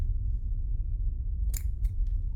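Two or three quick scissor snips, crisp and brief, over a low rumbling ambient drone in a scary film scene.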